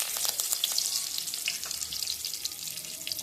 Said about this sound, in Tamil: இப்போ கருவேப்பிலை போட்டுக்கலாம்.